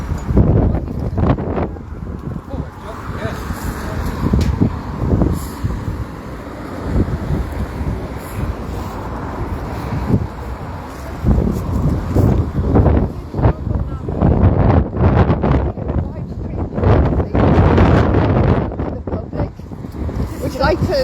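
Strong outdoor wind buffets the microphone with a steady roar and gusty surges throughout, while people talk at close range.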